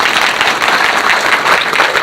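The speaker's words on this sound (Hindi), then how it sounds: "नारी शक्ति के लिए जोरदार तालियां एक बार" Loud, dense applause from an audience cheering for women, a continuous wash of many hands clapping close by with no voices on top.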